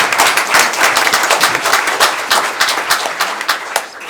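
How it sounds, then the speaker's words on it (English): A room of people at a committee meeting claps for state champion athletes, a loud, close burst of rapid, uneven hand claps sustained throughout. "That deserves a round of applause."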